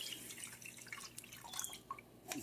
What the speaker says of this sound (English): now I'm pouring my mushroom liquid in